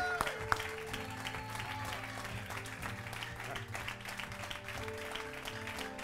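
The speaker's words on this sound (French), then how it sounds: "Acclame bien, acclame bien, acclame bien." A church congregation claps in steady, continuous applause, a fairly quiet and dense patter under faint voices, with one sharp louder clap near the start.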